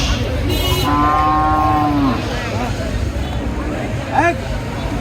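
Cattle lowing at a busy Bangladeshi cattle market in Brahmanbaria, one long loud moo followed by a shorter call, over steady crowd murmur and background chatter.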